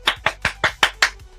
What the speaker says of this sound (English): I'll just fucking clap.